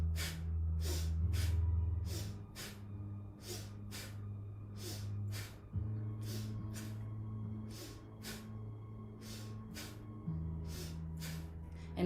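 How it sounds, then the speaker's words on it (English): Sharp, rhythmic nasal breaths during a kriya breathing exercise, quick inhales and exhales repeated about twenty times at an even pace, close and clear over a low sustained musical drone. "inhaling on the, as you bring your shoulders up, exhaling down."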